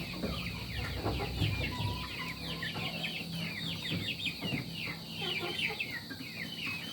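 Pet farm chickens cluck busily while being fed, with several overlapping hens calling at close range over a steady outdoor background, no talking.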